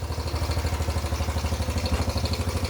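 A Yamaha Badger YFM80 ATV engine, a small flathead, idles steadily after a full rebuild, with a fast, even putter and some mechanical clatter close up.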